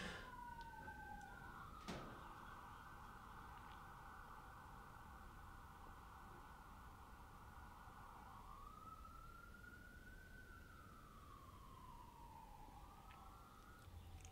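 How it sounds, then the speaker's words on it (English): Police car sirens wail and yelp from a distance, a faint continuous rising and falling tone that shifts pattern partway through as vehicles pass, with no voices. "that had to have been like 10 cop cars going by, because that was a good 2 to 3 minutes of just the same siren sounds"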